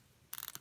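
A Seiko SRP227 dive watch's 120-click bezel turns, giving a quick run of crisp, close ratcheting clicks, quiet and alone.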